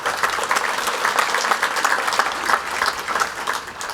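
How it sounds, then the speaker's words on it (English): Audience applause for a singer after the national anthems at a coronation celebration for King Charles III at an ambassador's residence in Hungary, a lively room of clapping hands, fairly close and sustained at an even level. "Please give her another round of applause."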